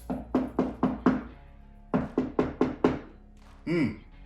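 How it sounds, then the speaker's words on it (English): Knuckles knocking on a drywall wall while searching for a stud, two sets of five hollow raps each with a pause between, close and clear, followed by a brief voice sound. "We can do the knock test."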